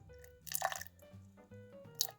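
About 15 grams of water goes into a sourdough levain at home, giving a few quiet, close drips and soft squishy splashes in short bursts.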